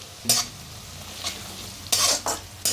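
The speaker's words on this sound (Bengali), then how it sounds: "কাঁচা লঙ্কাটার সঙ্গে একটু নেড়ে নিচ্ছি" Slit green chillies and onion frying in oil in a pan, stirred with a spatula in several loud scraping bursts over a steady sizzle, heard up close with no voices.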